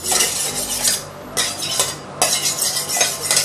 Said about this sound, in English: just use the plate to sharpen my knife, my cleaver